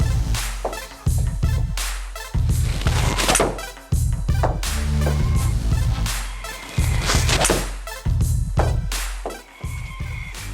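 A Callaway Mavrik hybrid golf club strikes balls in quick succession, each shot a sharp, loud, metallic crack near the listener, with the hits spaced a second or two apart.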